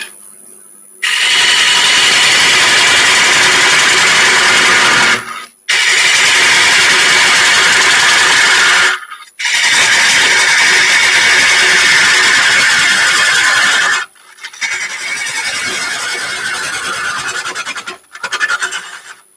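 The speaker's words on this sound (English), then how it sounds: "I'm going to use a bigger gouge because I'm getting a bit far away from the tool rest." Gouge cutting a green chestnut burr on a wood lathe, heard as loud close sustained rough shearing in four long bursts separated by short pauses, with no talk.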